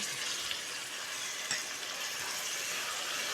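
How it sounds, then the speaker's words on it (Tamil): Ginger garlic paste sizzling in a pan during egg biryani preparation, a steady close frying hiss with faint stirring scrapes throughout, no talking. "இஞ்சி பூண்டு பேஸ்ட் போட்டு நல்லா மிக்ஸ் பண்ணுங்கள்"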